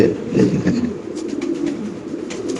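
Imported racing pigeons at a breeding farm coo in low, rolling murmurs that rise and fall close by, with faint shuffling and background noise around them.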